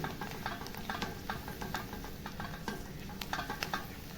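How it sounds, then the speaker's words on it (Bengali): Chopped onion and garlic frying in a pan, a dense continuous sizzle close by with frequent light stirring clicks and spatters. "একটুকু ভাজা ভাজা করে নেবো পেঁয়াজ এবং রসুনকে।"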